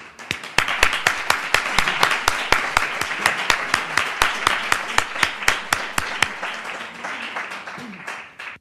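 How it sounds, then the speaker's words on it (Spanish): Audience applause after the introduction of a talk on healthcare agreements, a room full of clapping with sharp distinct claps over a steady wash, building quickly, holding for several seconds, then thinning out toward the end. "Os ruego que la demos un aplauso"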